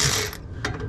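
A ratchet tightens an exhaust clamp on an Audi A3 during a Stage 2 exhaust job, giving a brief, close run of fast metallic clicks that pause and then resume.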